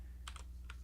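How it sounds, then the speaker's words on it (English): Quick keystrokes on a computer keyboard during a live stream, two short clusters of close, light clicks over a low steady hum, with no talk. "I'm bad at typing."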